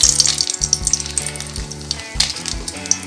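Dried red chillies frying in hot ghee while making Chettinad curry leaf powder, close, crackling sizzles that come in short bursts, with light clinks and stirring in between.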